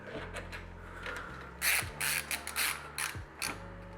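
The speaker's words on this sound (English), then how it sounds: "for some reason I'm screwing it in" A small screw is driven in by hand while a network card is fitted into a cramped server, giving a quiet series of ratcheting clicks and short mechanical bursts in close-up.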